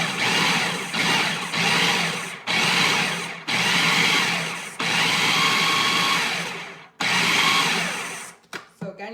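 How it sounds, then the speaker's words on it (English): A food processor pulses chopped garlic in short bursts, about six loud whirring pulses separated by brief pauses, close by, ending with a few quick stutters and no talking. "now I'm gonna use my food processor to blend it"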